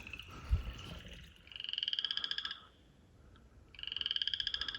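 Rapid pulsing croaks from tree frogs in two long bursts, close and loud, with a brief thump and quiet gap between them.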